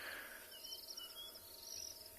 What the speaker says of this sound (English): so you can also hear all those frogs in the background